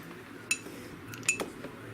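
A spoon clinks against a coffee cup while stirring a pretzel seasoning mixture, two or three sharp light metallic taps over a quiet background.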